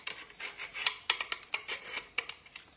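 A blade drawn repeatedly around a rotating blade sharpener gives a series of short, dry scraping rasps in an irregular rhythm, close and fairly quiet.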